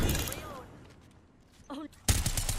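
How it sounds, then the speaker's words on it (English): Bursts of gunfire in Apex Legends, a sharp volley at the start and another loud burst near the end, separated by quieter moments with a brief tonal effect. "Some plunkers shooting at me."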